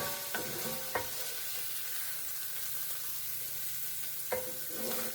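Dandelion greens frying in a pan on a home stove, giving a steady soft sizzle throughout, broken by a few sharp clinks and scrapes of a utensil stirring against the pan, with no talking.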